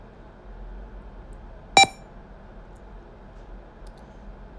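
A single short electronic beep from an IchigoJam computer metronome program rings out once amid a faint quiet background hum.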